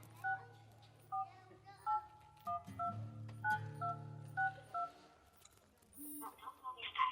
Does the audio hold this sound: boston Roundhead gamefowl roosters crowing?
no